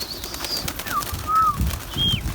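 Pigeons, including yellow and black-headed Akbaş birds, coo and call in short bursts close by, with a soft flutter of wings against a low outdoor rumble.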